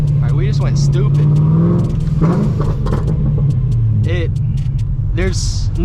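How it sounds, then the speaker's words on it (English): A cammed Corvette rumbles while driving, its deep engine and exhaust note loud and close, with throttle swells and lopey rhythm, under talking voices throughout. "There's no car I've had that sounds better than this exhaust wise."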